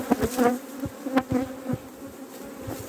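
Honey bees buzz around a hive frame, a close droning hum broken by sharper swells as individual bees fly near, with no voices.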